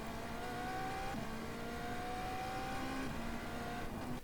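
An iRacing GTP prototype race car accelerates at Long Beach in the simulator, its engine a steady high whine with gear-shift steps in pitch, continuous and fairly quiet.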